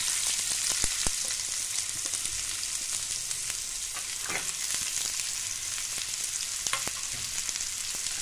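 Chopped onions frying in a pan for egg bhurji, a steady close sizzle with occasional pops and stirring scrapes, continuous throughout with no voices.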